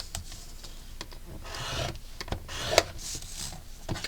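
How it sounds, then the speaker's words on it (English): Chipboard for a mini album in a box being scored in half, heard as faint scraping and rubbing strokes up close, with a few soft taps in a quiet room. "So we're just scoring each one of these in half."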